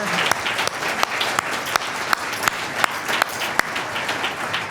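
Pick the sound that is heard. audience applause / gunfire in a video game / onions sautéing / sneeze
audience applause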